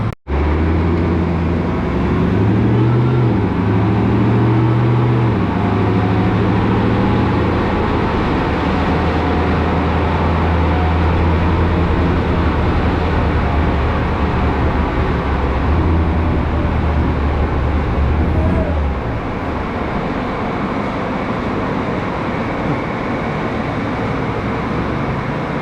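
A 1,000hp Dodge Hellcat V8 running on E85 roars through a dyno pull, loud and continuous, with rising pitch early on and a drop in tone near the end. No voices.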